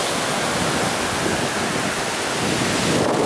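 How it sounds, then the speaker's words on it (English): Ocean surf at Terrigal Beach, a steady, loud broadband wash of breaking waves filling the whole stretch with no distinct individual crashes and no talking. "fantastic waves today"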